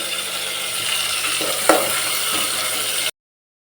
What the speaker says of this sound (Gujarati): ટમેટાને પહેલાં આપણે ઉપર તેલમાં સોગી દઈએ